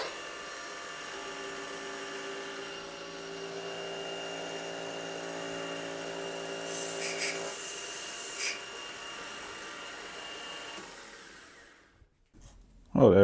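A grinder sharpens a D-bit cutter with a steady, loud whirring whine and a grinding hiss that runs for about eleven seconds, then winds down and stops.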